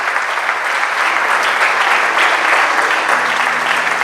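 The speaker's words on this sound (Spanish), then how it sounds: "Y eso es motivo de darle un aplauso fuerte a ese Dios" Loud, sustained applause from a church congregation fills the space throughout, a dense wash of clapping hands with no break.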